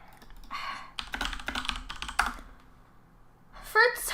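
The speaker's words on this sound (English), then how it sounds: "I'm typing this as you're watching 3 times 10 right now" Rapid clicking of keys on a computer keyboard in short irregular bursts with brief pauses between, close and moderately loud, accompanied by faint background voice sounds.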